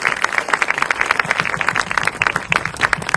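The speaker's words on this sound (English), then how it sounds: "We have to thank God with a nice clap" A congregation at a prayer gathering in Canada claps steadily together, dense, close and continuous, with no talk over it.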